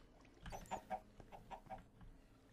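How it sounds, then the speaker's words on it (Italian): Chickens in the video game Minecraft cluck in a handful of short, faint calls spread over a couple of seconds. "sono 3 polli"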